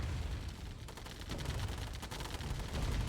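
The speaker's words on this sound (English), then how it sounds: "Minigun is just ripped straight through it." Rapid minigun fire from a unit tearing into a defensive turret in the real-time strategy game C&C: Tiberian Dawn, a dense, continuous burst of shots running unbroken and fairly loud for the whole stretch.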